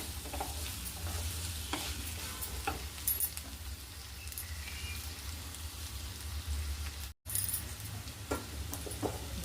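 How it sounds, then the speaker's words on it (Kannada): Cooked rice being stirred into vegetable fried rice in a hot pan, a steady close scraping and sizzling with scattered clinks of the spoon, running continuously apart from one momentary dropout. "ಮಾಡಿಟ್ಟಿರೋ ಅನ್ನನ ನಾನು ಇದಕ್ಕೆ ಹಾಕಿ ಮಿಕ್ಸ್ ಮಾಡ್ತೀನಿ."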